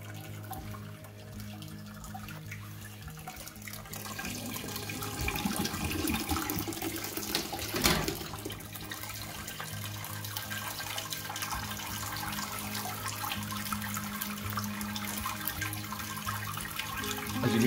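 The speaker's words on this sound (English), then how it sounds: "strain into the pan. Gentle squeeze, get as much of that liquid out" Wort strains from a squeezed grain bag into a pan during stovetop homebrewing, a continuous close trickle and pour of liquid that swells slightly partway through.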